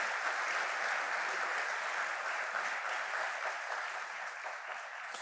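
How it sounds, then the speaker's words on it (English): Steady, even audience applause fills a gala hall, a dense wash of clapping from many hands that holds at a constant level throughout with no distinct voices. "Please give them a big round of applause."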